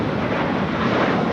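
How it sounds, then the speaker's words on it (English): An American Airlines Airbus A321 jet takes off at Los Angeles International Airport, its engines giving a loud, steady broadband roar with wind rumble and no pauses. "This is American Airlines 3081 taking off to Dallas Fort Worth on the A321."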